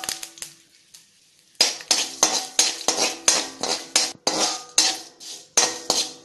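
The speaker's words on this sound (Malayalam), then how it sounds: "കടുക് പൊട്ടി തുടങ്ങുന്ന സമയത്ത് നമുക്ക് ഗ്യാസ് ഓഫ് ചെയ്തിട്ട് ഉലുവയും കൂടെ ചേർത്ത് കൊടുക്കാം." Mustard seeds, asafoetida and fenugreek are tempered in a pan with the gas switched off. After a quiet start, a metal spoon scrapes and clinks against the pan in about a dozen quick rhythmic stirring strokes, close and clear.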